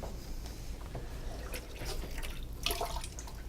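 Water being poured into a pot of honey-garlic pork ribs, a steady liquid trickle and splash close by, running continuously with a brighter splashing burst near the end.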